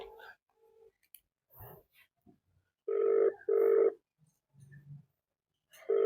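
A telephone ringing tone sounds in two steady bursts near the middle and again at the end, with quiet gaps and soft background noises between.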